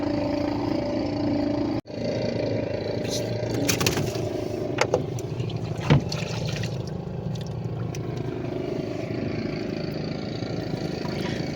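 Motorboats pull away out to sea, their engines a rough continuous drone with water washing beneath, steady throughout apart from a brief dropout and a couple of sharp knocks.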